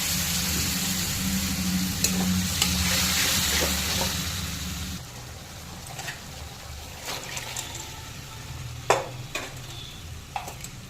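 Water poured into hot oil with a bay leaf sizzles loudly for a few seconds, then quiets to a softer crackle broken by a few sharp clinks of utensil on pan.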